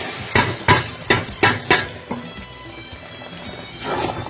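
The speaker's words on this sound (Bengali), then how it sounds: "আমি পোলাও চাল দিয়ে দিচ্ছি।" Pulao rice tipped into a pot of fried onions and spices, marked by a run of sharp metallic knocks and taps in quick succession, then a softer sizzle and rustle near the end.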